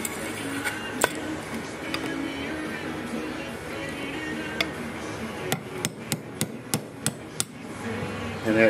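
A hammer taps out a hardened pin on an M1 Carbine, a series of sharp metallic strikes that speed into a quick run of evenly spaced taps near the end, close up over a faint room background.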